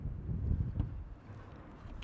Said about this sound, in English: Oh, and here it is windy.